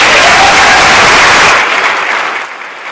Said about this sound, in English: please give a round of applause for Ms. Chelsea Jans